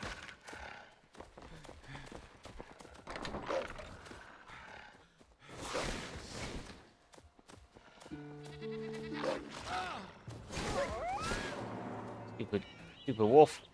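A goat in a survival building game bleats in several wavering, nasal calls, close and fairly loud, between stretches of quieter game sounds and scattered clatter.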